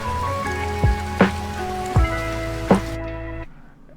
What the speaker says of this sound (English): So we're going to add some rain.